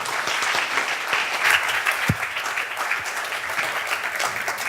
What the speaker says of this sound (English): please join me for a round of applause